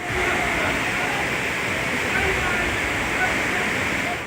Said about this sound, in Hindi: गली में पानी की धार चल रही है।